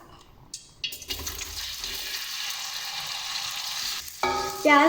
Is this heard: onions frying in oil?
yes